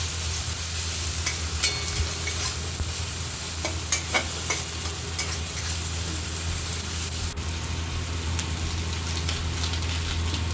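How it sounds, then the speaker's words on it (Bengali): Spices with Kashmiri chili powder sizzle steadily in a hot pan while being stirred for a cabbage curry with fish head, with scattered scraping clicks of the spoon over the continuous frying hiss. "লঙ্কার গুঁড়ো দিয়ে ভালো করে নাড়াচাড়া করে মশলাগুলো মিশিয়ে নেব।"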